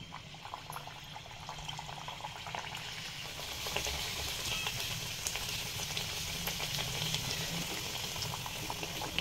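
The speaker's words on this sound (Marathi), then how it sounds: "पुऱ्या तळून घेऊया" Steady, dense bubbling and sizzling of beetroot puris deep-frying in hot oil in a kadai, continuous and close, with no talking.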